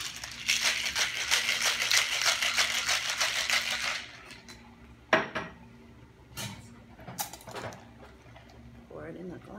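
Cocktail shaker rattling hard as a peanut butter cup martini is shaken, a dense steady clatter of ice for about four seconds, then stopping, followed by a few scattered knocks and light handling noises.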